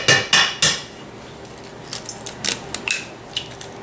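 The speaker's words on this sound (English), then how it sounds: "we're going to crack in 2 of our eggs" Eggs cracked one after another against the rim of a mixing bowl of sugar and melted butter, giving a few sharp close taps followed by lighter shell clicks and small knocks.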